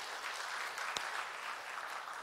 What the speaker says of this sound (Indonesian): Berikan tepuk tangan dulu pada Rudi